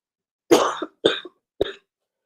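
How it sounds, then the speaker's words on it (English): Three short, close coughs in a row, each a sharp burst followed by silence, with no talking. "y'all just got a little cough"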